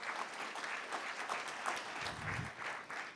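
Audience at a theatre award ceremony honouring Baba's Theatre breaks into enthusiastic applause, a dense, even patter of many hands clapping for about three seconds, heard from within the hall.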